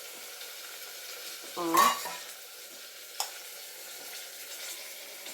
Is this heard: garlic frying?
yes